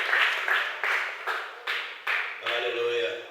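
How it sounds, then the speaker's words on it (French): A church congregation claps in a steady rhythmic beat of about eight strong claps, lively and close, with a low sustained tone joining near the end. "Acclame encore pour la gloire de Jésus."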